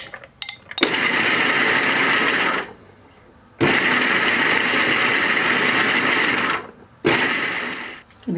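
A mixer grinder blends falafel ingredients in three loud, steady whirring bursts of about two and three seconds each, separated by short quiet pauses and faint clatter.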